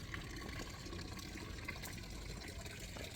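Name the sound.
water flowing from a fountain's lion-head spout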